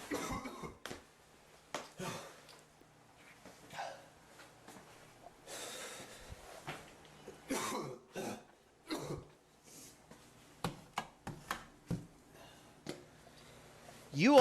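A man fakes a series of coughs, with short rough bursts, snorts and throat-clearing spread unevenly across the stretch, close but fairly quiet, with no speech.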